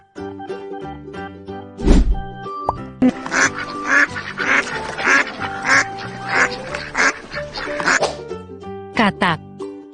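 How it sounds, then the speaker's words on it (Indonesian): A duck quacks in a rapid, evenly spaced series of bright calls over a steady backing of cheerful music, close and fairly loud, in a children's animal-name learning setting. "Bebek."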